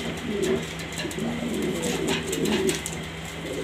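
Pigeons coo repeatedly nearby, soft throaty calls overlapping at a moderate volume over faint background noise.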